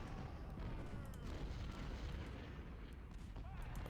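Cannon artillery fire rumbles faintly and steadily in Ultimate General Civil War, a dense, distant wash of overlapping booms with no clear individual shots.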